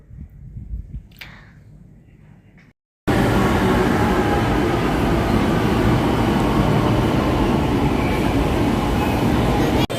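Loud, steady rumble of a metro train running, filling the clip after a brief quieter stretch of muffled crowd noise at the start that cuts out abruptly.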